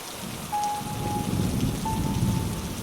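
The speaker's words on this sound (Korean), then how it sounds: "기와집 처마 아래 빗물이 사정없이 쏟아져 내리기 시작했다." Rain pouring heavily in an audio drama effect, a steady hiss and patter that carries a low rumble from the storm, with a faint tone sounding twice above it.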